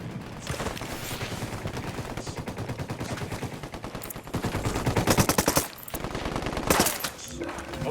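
Rapid automatic assault-rifle fire in the shooter game Ghost Recon Wildlands, dense overlapping bursts rattling continuously for several seconds, with a heavier stretch midway and a voice faintly underneath.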